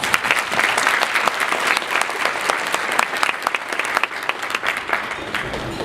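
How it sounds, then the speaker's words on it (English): Loud, close audience applause at a keynote conference, dense clapping with sharp individual claps standing out, sustained throughout. "So give yourselves a round of applause."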